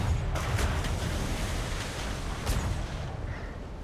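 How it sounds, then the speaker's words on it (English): A rumbling roll of ship cannon fire from a broadside in a pirate naval role-play game, with dense low booms blending into a sustained roar that fades slowly. "it's gonna feed us another broadside"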